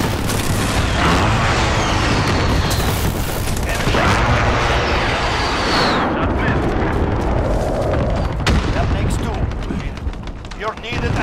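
Heavy explosions from an incoming strike in Call of Duty: Modern Warfare, loud rumbling booms and bursts layered over gunfire for several seconds before easing off toward the end.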